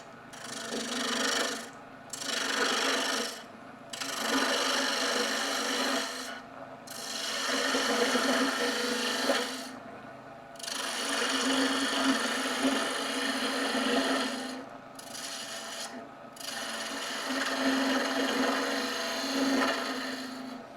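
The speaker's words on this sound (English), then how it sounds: "Now we'll go back to our spindle gouge. I'm going to make this round." A spindle gouge shapes a spinning wooden Christmas tree piece on a lathe, a close, rasping cut that runs in several long passes broken by short pauses.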